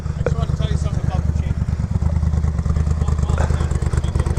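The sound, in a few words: Honda 750F motorcycle engine running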